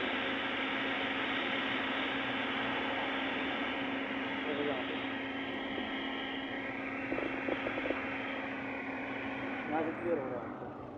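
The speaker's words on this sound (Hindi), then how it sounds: "अब ग्राउंड देने लग गया, पंखा चलने लग गया हमारी गाड़ी को।" The radiator cooling fan of a Maruti Eeco runs after an ECM ground fault was fixed. It gives a steady, close, broadband whoosh that holds throughout, with faint voice-like traces in places.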